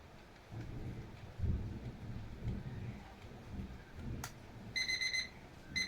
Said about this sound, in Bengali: তখন দেখবেন অটোমেটিক অ্যালার্মটা বাজবে